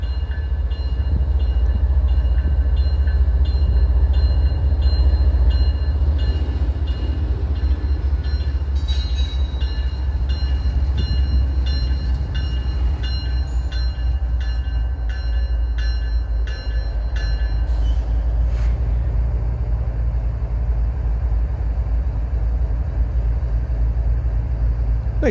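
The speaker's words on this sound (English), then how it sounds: "they're going to turn the locomotive around so that its nose faces, well, in this case, easterly" A Pennsylvania Railroad heritage locomotive moves slowly at a small Tipton, Indiana site, giving a steady low rumble with metallic squeals and rail clatter, continuous and fairly loud throughout.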